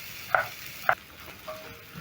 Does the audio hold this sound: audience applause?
no